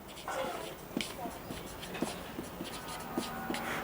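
A pen scratches out a date on paper in short strokes and taps, close and fairly quiet, with someone speaking Hindi over it.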